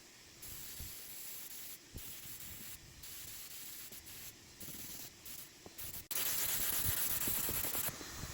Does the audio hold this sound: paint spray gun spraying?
yes